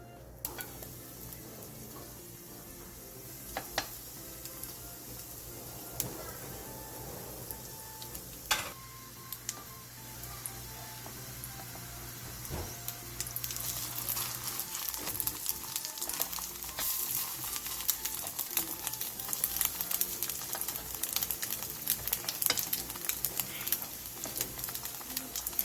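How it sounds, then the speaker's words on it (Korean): Bite-sized batter pancakes fry in oil in a pan over medium-low heat, a soft continuous sizzle with scattered pops and light clicks that grows busier and louder partway through; no one talks. "팬에 기름을 두른 뒤 반죽을 한입 크기로 올려 중약불에서 앞뒤로"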